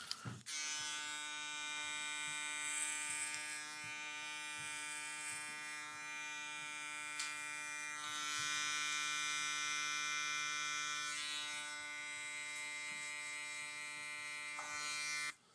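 An Instinct X hair trimmer with a fade blade runs steadily while cutting hair during a high taper haircut, a close, continuous electric buzz that holds for the whole stretch with slight shifts in load.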